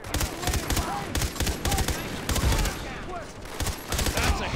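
Rapid bursts of automatic gunfire from the video game Far Cry 3 crackle in repeated volleys, mixed with game effects and faint voices in the background.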